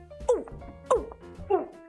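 A voice imitates a big dog barking, giving three loud, evenly spaced woofs close to the microphone.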